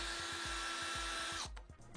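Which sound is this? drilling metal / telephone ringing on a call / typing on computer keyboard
drilling metal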